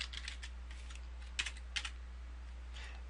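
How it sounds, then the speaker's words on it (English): Soft typing on a computer keyboard, a scattering of light key clicks with a few sharper taps, quiet and close with no talk. "I can come down here and type a paragraph of text."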